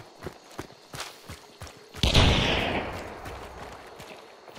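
A single loud, close gunshot with a long echoing tail rings out in Hunt: Showdown after a series of soft thuds and footsteps.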